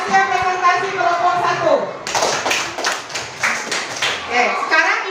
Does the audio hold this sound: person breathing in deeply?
no